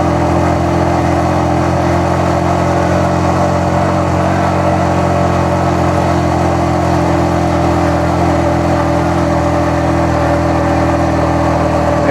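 A car engine labours up a steep hill road near Keokradong in second gear, producing a loud, unbroken droning hum that holds steady from start to finish.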